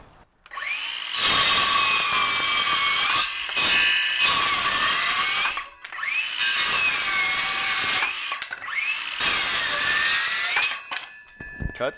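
A DeWalt circular saw with a 6.5 inch fast wood-cutting blade spins up and bites into wood in repeated loud, whining cuts, with brief pauses between passes and rising pitch at each spin-down.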